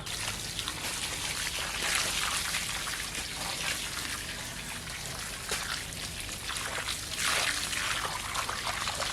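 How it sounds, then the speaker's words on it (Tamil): Irrigation water flows steadily around coconut trees in a farm plot, a constant hissing trickle and splash with small surges, close and moderately loud. "அடுத்து தண்ணி பாய்ச்சிக்கலாம் லேசா"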